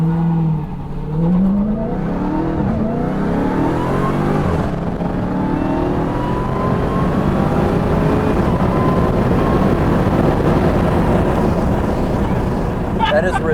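2022 Dodge Charger SRT Hellcat Jailbreak launching at full throttle, a loud sustained engine roar rising in pitch as the car accelerates hard, heard from inside, with voices briefly over it.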